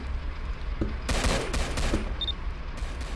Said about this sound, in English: Now that purple van's shooting at us.